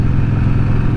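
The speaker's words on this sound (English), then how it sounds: "The engine that's currently churning away very happily with zero complaints underneath me right now" An old Harley-Davidson Ironhead motorcycle engine, recently rebuilt, runs steadily with a close, loud low-pitched throb and no breaks or revving.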